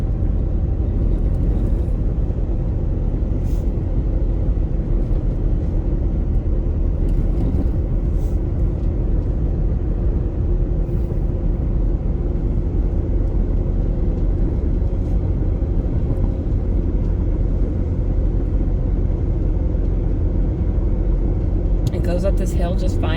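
A 2010 Ford Focus driving on the road, with a steady low engine and road rumble filling the cabin throughout and a brief rattle near the end, under talk.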